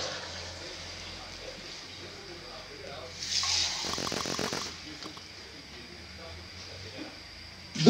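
A cup of water is poured into a cooking pot while pork knuckle is being prepared, a brief splashing gush in the middle of the clip, with a speaking voice around it.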